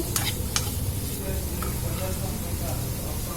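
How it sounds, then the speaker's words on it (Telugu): Sweet corn fries and is stirred in a pan for a pasta dish, a steady close sizzle with crackling and scraping stirs throughout, and a voice speaks faintly underneath. "తర్వాత స్వీట్ కార్న్ వేసాను"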